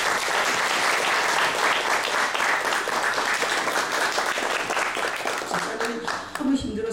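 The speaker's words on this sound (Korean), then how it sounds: "우리 집사님한테 위로와 격려의 박수를 한번 올려드립니다." A church congregation claps in applause of comfort and encouragement for a deacon, a dense sustained wave of hands that stays loud and full before thinning out at the end.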